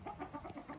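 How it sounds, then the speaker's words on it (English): Faint chickens cluck and murmur repeatedly in the background, a soft, steady barnyard chatter with no one talking. "there are a lot of chickens around me right now, so if you hear a rooster, that's why."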